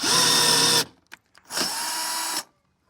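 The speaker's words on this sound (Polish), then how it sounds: "A teraz wykręcamy śrubę." A power drill backs a bolt out of a rivet nut setting tool during fender flare fitting, with two loud, close whirring bursts separated by a brief pause with faint clicks.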